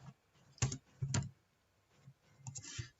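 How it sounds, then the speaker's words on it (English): Scattered clicks of typing on a computer keyboard come through faintly, a few short bursts of keystrokes with quiet gaps between them and no speech. "What are you typing on?"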